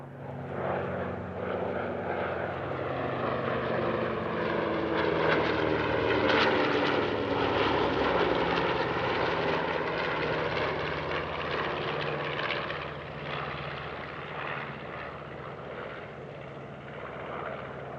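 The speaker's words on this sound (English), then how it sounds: "Some very photogenic 3-ship passes to open the display, led by the B-25J Mitchell and flanked by the P-38L Lightning and F4U-4 Corsair." Three World War II warbirds, a B-25J Mitchell bomber flanked by a P-38L Lightning and an F4U-4 Corsair, roar past in formation at an airshow, a loud, sustained piston-engine drone that swells and holds, then eases slightly.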